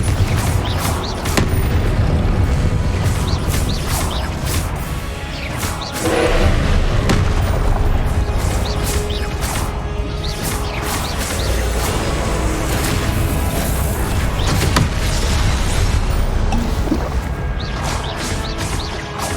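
Confringo fire spells exploding in the Hogwarts Legacy video game, a run of loud, heavy booms and blasts layered over dense, continuous combat sound with no pause.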